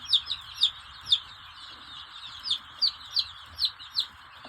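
Hens clucking with chicks among them, a series of short, fairly faint clucks and peeps coming in uneven bursts over a quiet background.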